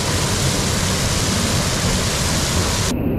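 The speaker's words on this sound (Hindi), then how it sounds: "इतना बड़ा झरना है और विशाल झरना गिर रहा है गाइस यहाँ से" A large waterfall at Tantya Mama falls in a loud, steady, close roar of rushing water, with no talk over it.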